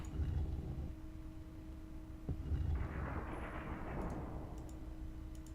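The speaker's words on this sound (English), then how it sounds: "You hear a sound of thunder." Thunder in the video game Quest for Glory 2: a deep rumbling roll with a sharp crack midway, swelling into a broad low roar over a steady background hum, with no voices.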